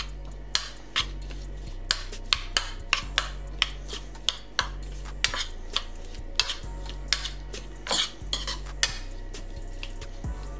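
A spoon clinks against a bowl as seasoned ingredients are mixed with salt and pepper, sharp repeated taps spread unevenly over a low steady hum, with no talking.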